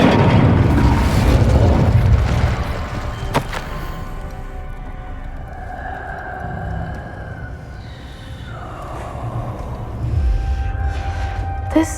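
Incendio fire spell erupting in Hogwarts Legacy, a loud whooshing boom up front that dies away into a low hum, with a tonal magical shimmer and a second swell near the end.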